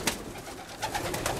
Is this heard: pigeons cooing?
yes